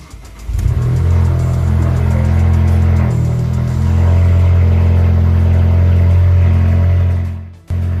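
An Alfa Romeo Giulietta engine cranks and fires after a battery replacement, then settles into a loud, steady idle close by for several seconds before cutting off abruptly near the end.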